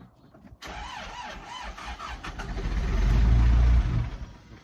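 An old grain truck engine cranks and catches, then runs rough and uneven, surging louder toward the end as it struggles to keep running close by, with no talk over it.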